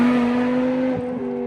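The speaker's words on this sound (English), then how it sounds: "this car has a naturally aspirated 5-liter V10" A 2006 BMW M6 with a naturally aspirated 5-liter V10 hums loudly and steadily with a strong, even tone, dipping briefly near the end before settling back.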